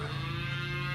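A cow from a cow/calf herd walking a lane back to a water tank gives a long, low, steady moo, faint and sustained throughout.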